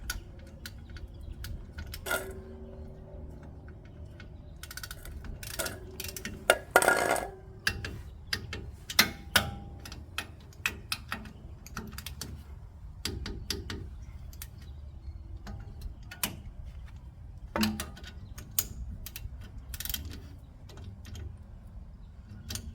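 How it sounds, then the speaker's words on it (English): A torque wrench tightening the nuts on a 2005–2015 Toyota Hilux rear axle gives faint, irregular metallic clicks and ratcheting ticks in a quiet workshop, with no voices. "we're just going to make sure we torque up these nuts here"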